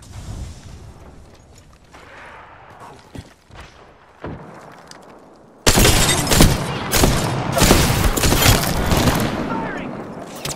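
Video game combat with gunfire and a grenade blast: sporadic thuds and shots at first, then a loud, sustained burst of heavy gunfire and explosion noise that fills the rest.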